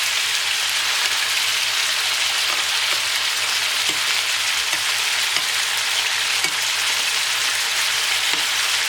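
Venison pieces for a civet frying in a pan, a loud constant hiss of sizzling fat with faint soft taps as the pieces are turned.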